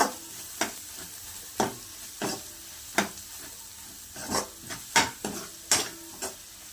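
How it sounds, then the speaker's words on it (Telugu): Two tablespoons of ginger garlic paste fry in a pan for prawns fry, a soft continuous sizzle under regular spatula scrapes and stirs, close and fairly quiet, with no talking. "ఇందులో 2 టేబుల్ స్పూన్స్ అల్లం వెల్లుల్లి పేస్ట్ వేసుకోవాలండి. ఇది పచ్చివాసన పోయే వరకు ఫ్రై చేసుకోవాలి."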